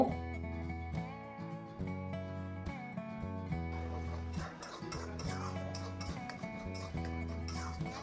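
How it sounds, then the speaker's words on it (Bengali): Pointed gourd paste is stirred into fried garlic in a wok, with scraping and clinking of a utensil against the pan, largely buried under loud, steady background music. "সেটা এবার কড়াইতে দিয়ে দেব দিয়ে ভালোভাবে সমস্ত কিছু মিশিয়ে নেব"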